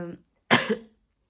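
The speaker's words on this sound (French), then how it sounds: "je tousse un petit peu" A single harsh cough from a woman with a cold and sore throat, close to the mic. It comes after a faint, brief throaty sound, with quiet before and after.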